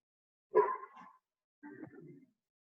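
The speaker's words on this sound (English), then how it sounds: "Excuse my dogs as they go crazy out the window." Two muffled dog barks, spaced about a second apart, sounding somewhat distant as if from another room, with quiet in between.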